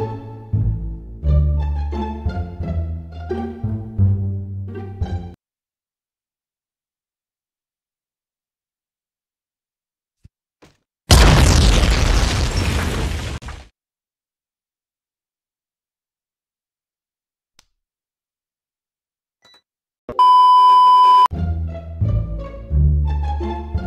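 In the Growtopia video game, the Doomsday Warhammer's destroy hit lands as a loud burst of roaring, crackling noise lasting a few seconds. Game music plays before and after, with a short bright electronic tone near the end.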